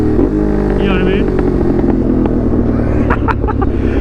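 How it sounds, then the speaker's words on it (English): A lightweight, full-carbon Ducati Monster motorcycle with an SC Project exhaust roars loud and steady at close range, a deep, continuous engine drone with small shifts in pitch throughout. "When you hear that exhaust, you just like want to keep pulling and going, because the exhaust just sounds so brutal."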